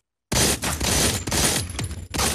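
Sustained automatic gunfire in the mobile shooter Modern Combat 4 Zero Hour, a dense continuous rattling burst that starts abruptly and runs nearly unbroken with brief gaps, loud and alone without talk.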